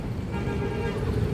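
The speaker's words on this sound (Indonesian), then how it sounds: "Oke, datang bus" An intercity bus pulls in at a roadside stop, its low diesel engine rumbling steadily amid street traffic noise, with a person talking over it.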